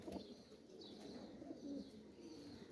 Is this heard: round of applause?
no